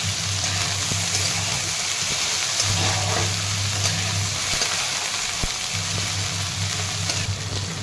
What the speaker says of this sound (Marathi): भेंडी पण छान परतून घ्यायची आहे.